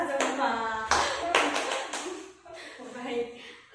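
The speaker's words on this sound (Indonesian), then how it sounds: "Tepuk tangan untuk kita semua." A small group in a counseling practice session claps together, several quick bursts of hand claps at close range mixed with voices talking at the same time.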